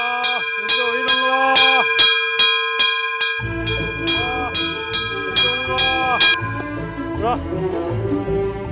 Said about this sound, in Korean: 난데없는 종소리가 지리산의 아침을 깨웁니다.